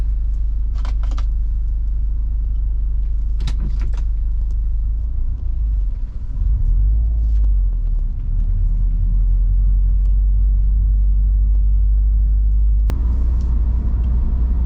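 A 2012 Subaru Impreza WRX drives along, its engine and road rumble a steady, loud low drone throughout, with a few brief clicks and knocks inside the cabin.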